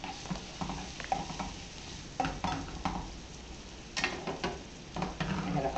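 Thin-sliced African eggplant sautés in a little oil in a pan that slides on the burner, with soft sizzling and intermittent scraping and stirring knocks, close by and moderately quiet.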